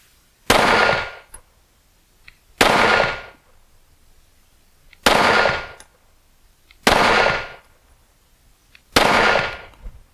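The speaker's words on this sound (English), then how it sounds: "I'm gonna shoot a 5-round group at 12 yards" Five separate handgun shots fired at a 12-yard target while testing a budget enclosed optic, the Cyelee Optics Wolf, evenly spaced about two seconds apart, each a sharp loud crack with a short decaying ring.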